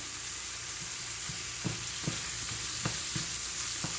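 Ground beef, pork and veal meatloaf mix browns in a pan with a steady broadband sizzle, broken by a few soft clicks and taps of stirring, with no talking.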